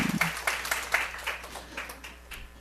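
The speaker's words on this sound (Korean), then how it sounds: "박수 좀 해주세요." Scattered, modest applause from a small Korean church gathering, individual claps separating as it thins out over a few seconds, fairly quiet.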